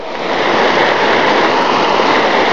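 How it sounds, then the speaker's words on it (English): Vasquez Creek rushes through the Arapaho National Forest in Colorado, a steady, loud, close wash of flowing river water with no voices over it. "definitely hear the nice sound of the river, or the Vasquez Creek"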